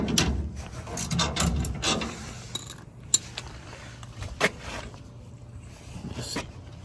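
Metallic ratcheting and wrench clicks from loosening a leaf spring clamp on a truck's D21 axle, irregular bursts up close with a couple of sharp clanks, no talk.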